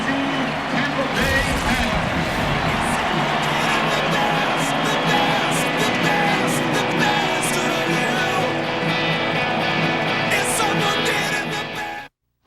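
A packed Buccaneers stadium crowd roars after a Tampa Bay touchdown in a 2005 wildcard playoff game against the Redskins, a loud, sustained wash of cheering that swells early and holds steady under broadcast commentary before cutting off abruptly.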